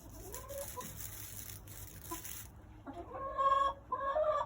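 Backyard chickens cluck and squawk close by in the evening, with short bursts coming in uneven clusters that grow louder toward the end.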